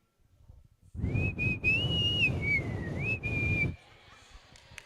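A person whistles a sustained, wavering tune lasting a few seconds, clear and close, with a short break in the middle and room murmur around it.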